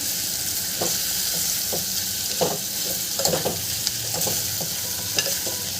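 Bitter gourd being stirred and mixed in a frying pan while it sizzles steadily, with a spatula scraping and clacking irregularly against the pan close by.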